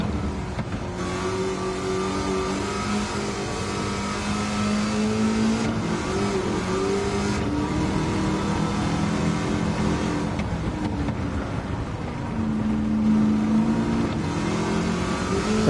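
A Gran Turismo 7 DeLorean with a swapped-in LS7 V8 revs hard and steadily, its engine note rising and falling through gear changes across the whole stretch, loud and close with no talking.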